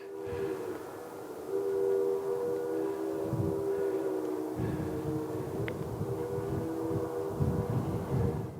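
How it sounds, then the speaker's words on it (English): Silverton train passing through Durango, Colorado, its steady horn or whistle tones sounding from a distance over outdoor ambience, sustained and moderately faint. "You can hear the train. Oh, yeah. The Silverton train."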